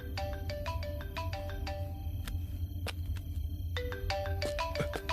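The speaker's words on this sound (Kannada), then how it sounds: "ಸರ್, ನಿಮ್ ಫೋನ್ ಬಡ್ಕೋತಿದೆ." A mobile phone ringtone plays a repeating melodic tone pattern, loud and steady over a low background hum, with no talk.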